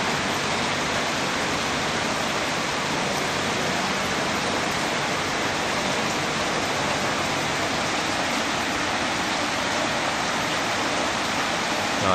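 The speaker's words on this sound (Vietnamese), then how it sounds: "Giờ đang mưa rồi mấy anh." Steady rain falling outdoors, a dense, even hiss that holds at the same loudness throughout with no breaks and no voices.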